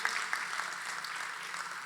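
An audience at a ghazal gathering breaks into applause, a soft, distant, continuous patter of many hands clapping at a steady level.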